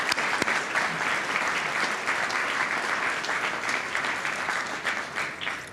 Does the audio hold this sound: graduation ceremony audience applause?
yes